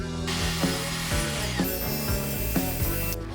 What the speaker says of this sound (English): I'm going to rip them on a table saw, but this time only to 1 inch.